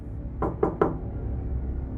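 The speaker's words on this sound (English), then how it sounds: "I walked across the trees toward their front porch and knocked on the door." Three quick muffled knocks on a front door, close by, with low background hum and nothing else.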